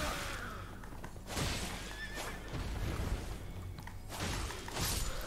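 A horse whinnies amid loud, busy Elden Ring game action, with sharp crashes and thuds around it.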